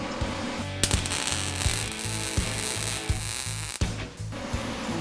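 A flagpole holder is tack welded with a steady buzzing crackle broken into short bursts, a few harder ticks and a brief pause near the end, close and fairly loud with no talking.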